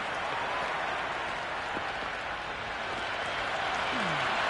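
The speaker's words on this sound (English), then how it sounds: "There is an almost tangible fervour throughout the crowd at the moment." Steady crowd roar and applause fills a Test match stadium in the Cricket 26 video game, a constant wash of noise with a faint whistle toward the end.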